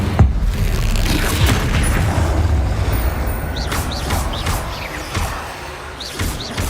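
Incendio fire spell cast repeatedly in the video game Hogwarts Legacy: loud, dense roaring whooshes and rumbling bursts of flame over a heavy low drone, with lighter flicks and crackles near the end.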